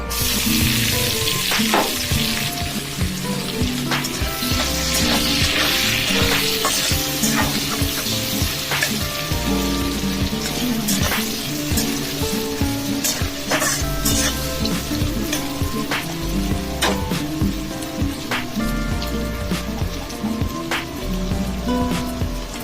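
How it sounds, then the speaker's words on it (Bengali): Nigella seeds, chopped onion and potato frying in hot oil, crackling and sizzling loudly and steadily with occasional spoon stirs and sharp pops throughout. "এই তেলের মধ্যে দিয়ে দিলাম কালো জিরে ফোড়ন এর মধ্যে দিয়ে দিলাম পেঁয়াজ কুচি আর আলুটা"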